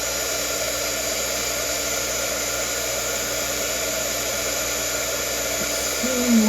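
A heat embossing tool blows hot air steadily onto embossing powder, a loud, even whooshing rush of air that runs unbroken from start to finish with no talking.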